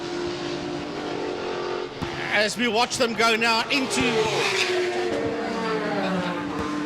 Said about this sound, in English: this group of cars race under the city of Cape Town Bridge and into turn number 1